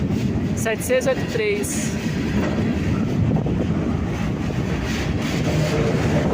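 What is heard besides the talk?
GE C30-7 freight locomotive train passing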